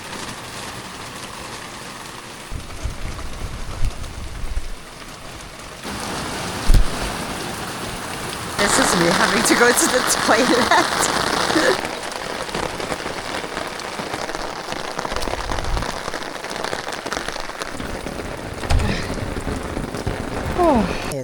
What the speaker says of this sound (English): After the calm weather, the storms hit us.